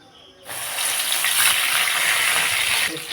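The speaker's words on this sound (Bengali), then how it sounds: "মাছের তেলটা আমি ভালো করে ভেজে নেব" Fish oil frying in a pan with a pinch of salt: a sudden burst of close, bright sizzling that starts abruptly and holds steady for a few seconds before easing off.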